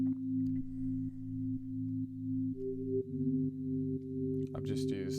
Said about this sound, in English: I've just used a standard Ableton synth with some effects, some reverb and some EQ